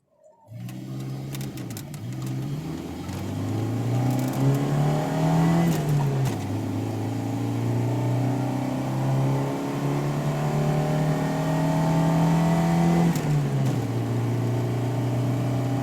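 A car engine accelerates up a hill in a back-to-back catalytic converter comparison, one run with a gutted converter and one with a working one; a loud, steady engine drone rises in pitch, dips at a gear change near six seconds, then climbs again, with no talk.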